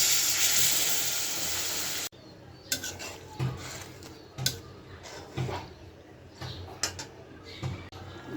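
Water poured into a hot pan of fried spiced masala with yogurt and tomatoes for a mrigal fish curry gives a loud hissing sizzle for two seconds, then cuts to quiet bubbling with scattered clinks of a spoon against the pan.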